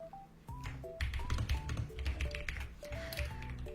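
Quick bursts of typing on a computer keyboard, close and crisp, the irregular clicks sometimes clustered and sometimes spaced, over a faint tonal background.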